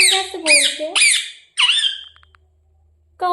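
A ringneck parrot gives several loud, harsh squawking calls in quick succession, a pause, then another squawk starts; the calls sound like a bird mimicking a crow's cawing.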